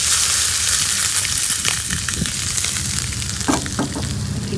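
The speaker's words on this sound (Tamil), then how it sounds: "ஆஃப் பண்ணிட்டு சூட்டோட பொடியில் வந்து மேலே ஊற்றிடணும்." Hot tempering sizzles as it is poured over powdered lemon rice mix, a continuous frying hiss with a few sharper crackles and stirring sounds near the end, close and clear.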